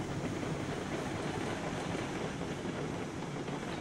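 A train rolls along in the railway game Railroads Online, a steady, dense rumble with faint rail clatter that holds at an even level, with no voices.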